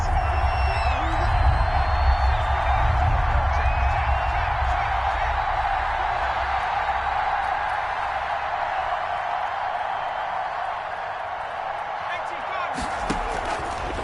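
Stadium crowd noise in an American football video game, a steady roar of cheering and whoops swelling ahead of a big third down, loud and continuous with a sharp clatter near the end.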